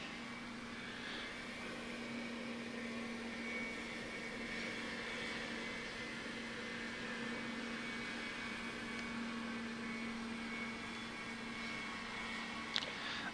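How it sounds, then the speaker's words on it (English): Engines of a Boeing 747-8F in a flight simulator on a Sydney to Melbourne run, a steady continuous hum and whine holding throughout with one brief click near the end. "It is a marvellous aeroplane, the 747."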